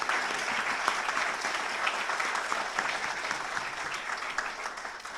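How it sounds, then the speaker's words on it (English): Sustained audience applause for parents at a student news awards ceremony, a dense, steady wash of many hands clapping that holds evenly throughout without voices. "a big round of applause"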